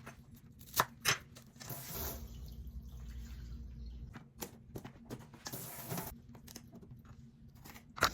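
A knife chops cilantro stems on a cutting board in a home kitchen while sofrito is prepared, giving a few sharp, quiet taps and crunches with soft, irregular pauses between them.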